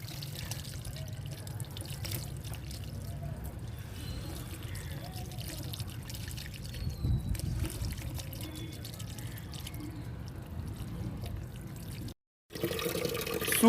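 Water poured over a body while bathing, a steady splashing and trickling with drips, moderately faint and continuous, with a brief silent gap near the end.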